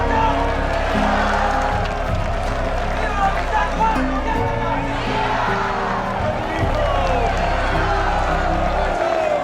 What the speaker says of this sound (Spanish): una gran cantidad de hombres y mujeres de La Habana están aplaudiendo la llegada de Gorbachev